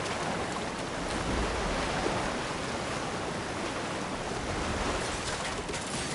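Fast-flowing river water in the video game Death Stranding 2: On The Beach, a dense continuous rushing wash, steady and fairly loud with no voices.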